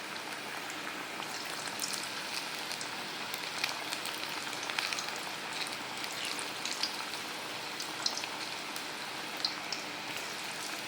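Battered cabbage snack pieces frying in hot oil over medium heat, a continuous soft crackling sizzle with small pops, fairly quiet and steady without talk.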